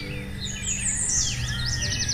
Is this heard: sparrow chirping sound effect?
yes